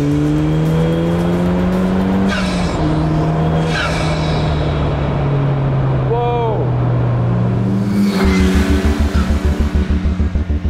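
A street-legal Ariel Atom 4 turbo track car drives close up, its loud engine drone holding steady, dipping and climbing through shifts. A hard throttle surge near the end ends in rapid pulsing bursts.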